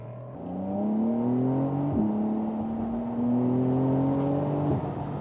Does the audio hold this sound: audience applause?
no